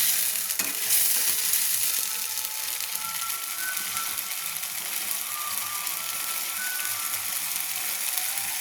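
Garlic paste fries in a pan while being stirred, a continuous close sizzle with faint scraping and clicking from the utensil, holding steady and fairly loud, no voices.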